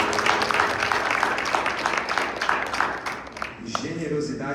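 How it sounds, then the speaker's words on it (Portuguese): A church congregation claps together in a broad, continuous wave of applause that fades out after a few seconds, leaving a quieter room with a faint voice. "Você poderia dar uma salva de palmas por isso?"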